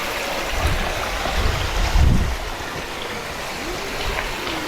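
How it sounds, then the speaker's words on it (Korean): Cold mountain stream water flowing down beside the Garibaldi Lake trail near Vancouver, a steady broadband rushing close by, with a few soft thumps from the hiker passing over wooden planks. "저 위쪽에 보면 시원한 물이 흘러내리죠."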